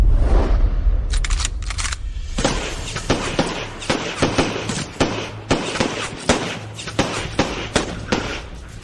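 Rapid bursts of gunfire crackle in a steady, loud rhythm of sharp reports, many shots in quick succession over a dense, noisy background.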